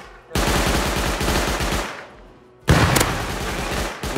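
Heavy automatic gunfire in Rust crackles in two long rapid bursts, loud and close, separated by a brief lull.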